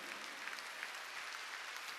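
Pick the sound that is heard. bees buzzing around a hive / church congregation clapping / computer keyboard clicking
church congregation clapping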